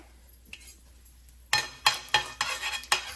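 Mustard seeds splutter in hot sesame oil in a kadai. A quiet stretch breaks into a run of sharp, close crackling pops and clattering bursts.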